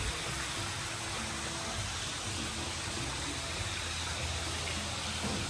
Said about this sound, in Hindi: सुनने में आप पानी की आवाज़ सुनेंगे, इतनी सूदिंग लग रही है